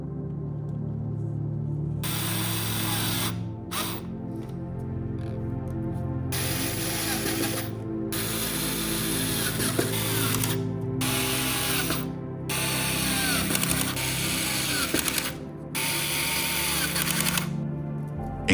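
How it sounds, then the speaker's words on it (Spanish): Brackets for mounting the evaporator and condenser units of a homemade freezer-based air conditioner are screwed into wood, with repeated bursts of driver whirring and ratcheting, close and fairly loud, separated by short pauses. "Atornillamos los soportes a la madera."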